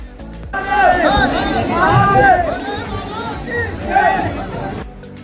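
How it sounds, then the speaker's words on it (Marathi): Crowd of devotees at Koteshwar Mahadev temple in Wardha on Mahashivratri, a loud steady babble of many voices close by, rising and falling for several seconds. "दर्शनासाठी झालेली भाविकांची गर्दी आता आपण बघत आहात।"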